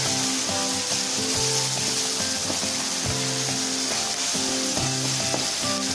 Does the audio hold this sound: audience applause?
no